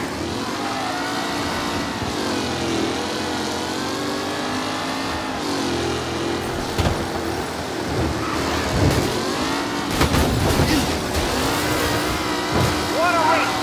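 Racing car engines roar continuously through a 1932 race, dense and loud with shifting revs, overlaid by excited voices talking throughout.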